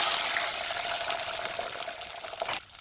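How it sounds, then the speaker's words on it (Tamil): Water pours into a pan of oil-sautéed ingredients for village-style thuthuvalai rasam, making a rushing, hissing splash that stops abruptly near the end. "தண்ணி சேர்க்குறேன்"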